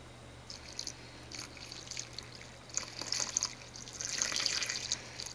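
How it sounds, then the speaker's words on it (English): Lye water pours and splashes into a container of oils for soapmaking, starting with scattered drips and growing into a steady, fuller pour toward the end. "I'm going to pour my lye water in."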